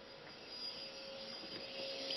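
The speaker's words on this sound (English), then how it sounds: "Oh no! Vacuum!" A vacuum cleaner drones steadily in a Minecraft game, a thin constant whine over a soft rushing hum, moderately faint and unbroken, with no voices over it.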